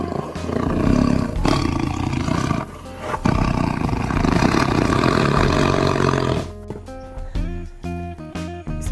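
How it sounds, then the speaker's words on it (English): A tiger roars loudly and close in several long, heavy bursts, followed by a short stretch of clopping, rhythmic sounds. "Tiger, orange and black color tiger"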